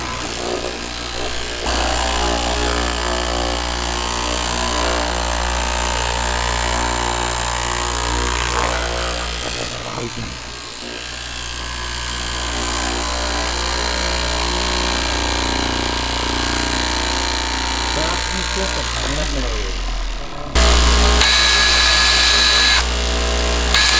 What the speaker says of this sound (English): using a manual skiving machine and taking a layer of leather off to make it thinner